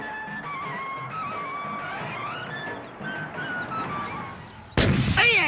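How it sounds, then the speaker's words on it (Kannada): A car tyre bursts with one sudden, loud, sharp bang near the end, following a stretch of tonal background music in a film scene. "ಸರ್, ಟೈರ್ ಪಂಚರ್ ಆಗಿದೆ"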